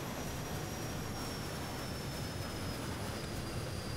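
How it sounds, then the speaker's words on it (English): A loud airplane engine in the video game ARMA drones steadily and evenly for the whole stretch, a dense, unbroken roar with no gaps and no talking. "I think that's a bug, a glitch, as to why the airplane sounds so loud"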